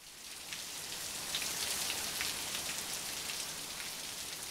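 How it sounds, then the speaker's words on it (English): Rain falling steadily on a surface, a close, even hiss of many small drops with faint individual patters, no voices. "Oh my goodness, it's raining."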